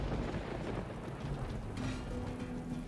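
Rain falls in the video game Divinity: Original Sin 2 as a soft, steady hiss of rainfall, faint and continuous with no voices over it.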